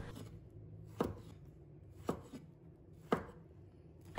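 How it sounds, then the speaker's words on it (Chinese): Knife cutting sponge gourd into large chunks on a board, four sharp, evenly spaced chops about a second apart over quiet background, close and clear with no talking. "接着我们把丝瓜切成滚刀块，要稍微切得大一点"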